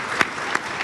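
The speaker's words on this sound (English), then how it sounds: "I think she deserves an applause, don't you think?" Audience applause at a conference launching an African report on girls' education, a short burst of clapping with a couple of sharper claps standing out.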